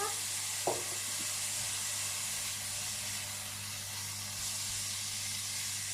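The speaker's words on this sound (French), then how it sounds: "les lardons vont me donner la petite graisse dont j'ai besoin pour faire revenir mes oignons" Lardons fry in a pan with a steady, fairly quiet sizzling hiss that runs throughout, marked by one brief louder crackle near the start and a low hum underneath.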